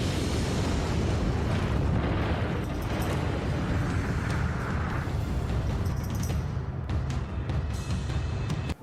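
Deep, sustained rumbling roar of an atomic bomb explosion, loud and dense across the full length, rolling and thundering without a break before easing slightly near the end; no voices.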